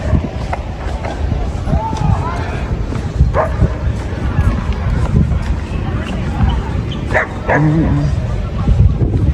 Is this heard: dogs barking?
yes